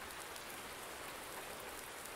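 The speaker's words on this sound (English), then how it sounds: "Is it going to be raining forever?" Steady rain patters across the surface in a Farming Simulator 19 Seasons farm scene on the Lone Oak map during summer, a constant soft hiss with no pauses or voices.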